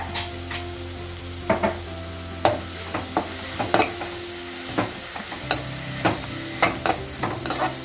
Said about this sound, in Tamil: இப்போ இதை நல்லா மிக்ஸ் பண்ணி விட்டுக்கோங்க.